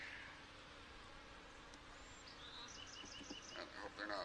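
Honey bees buzzing faintly inside a nuc box of frames, a soft continuous drone with a few brief higher whines that grow a little busier toward the end.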